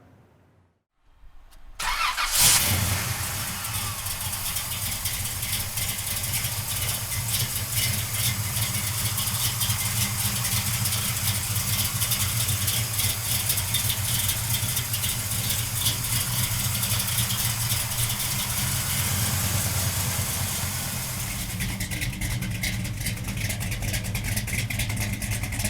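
A 1970 Chevrolet Chevelle big block V8 cranks and fires after a short quiet moment, then settles into a loud, steady, rumbling idle close by that lasts over twenty seconds with no talking.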